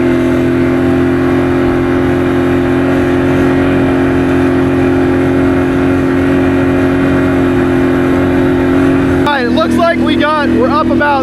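A Can-Am Outlander XMR 850 ATV with a Dalton clutch kit trail riding in sugar sand, its engine droning loud and steady at high revs throughout, with someone talking over it near the end.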